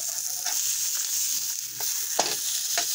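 Angus beef Bubba Burger patty frying on a griddle, a steady close sizzle with a few soft scraping taps from a spatula over it.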